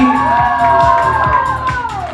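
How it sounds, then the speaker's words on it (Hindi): Audience cheering and applauding for a young girl's performance at a 50th wedding anniversary celebration, a steady loud crowd roar with whoops and shouts and a rhythmic beat running underneath, with no pause. "और हर्षिता के लिए एक बार और तालियां इसलिए भी होनी चाहिए"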